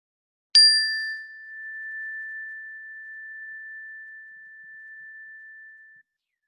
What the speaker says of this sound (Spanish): escucharemos el sonido de la campanilla que marcará su fin